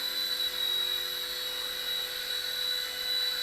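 A Silverlit Spy Cam II toy helicopter hovers in flight, giving a steady, high-pitched electric whine from its small rotor motor that holds constant and close throughout, with no voices.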